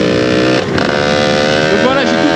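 Beta 50cc motorcycle fitted with a 70cc top-end kit runs steadily at close range, its buzzing two-stroke engine holding a constant drone with a slight dip and rise in pitch partway through, alone without talk.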